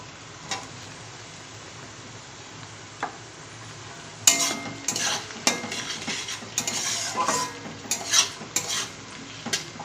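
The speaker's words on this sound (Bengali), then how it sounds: "এখন আমি ক্যাপসিকাম দিয়ে দেবো।" Capsicum added to carrots and beans frying in a pan for chowmein: a soft sizzle at first, then a run of sharp spatula scrapes and metallic clanks against the pan from about four seconds on.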